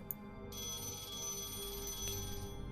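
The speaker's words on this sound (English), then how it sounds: "Phone rings." A telephone rings during a scene in the video game The Lions Song: a steady, bright electronic ring starts after a brief pause and holds for about two seconds at moderate loudness, with no voices.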